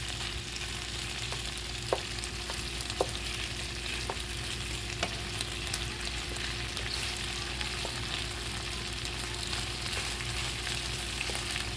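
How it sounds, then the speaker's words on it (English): Steady, quiet sizzling of shrimp frying in garlic butter, with occasional soft clicks and pops from the pan. "And you can hear that sizzling sound."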